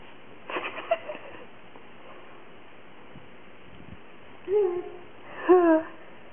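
A pet cat gives two short, plaintive meows near the end in a quiet home, after some soft rustling and faint sounds at the start.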